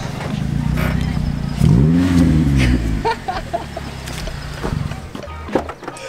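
A Toyota Corolla race car with a loud exhaust revs hard, its engine note rising and falling for about a second before settling into a low rumble under nearby chatter.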